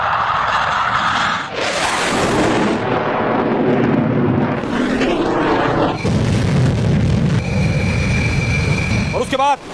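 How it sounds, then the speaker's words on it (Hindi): Rafale fighter jet firing missiles in succession at night: loud booming launches and blasts with a rushing roar, several bursts over a steady rumble, a voice faintly present beneath. "रफाल ने एक के बाद एक मिसाइल फायर करनी शुरू की।"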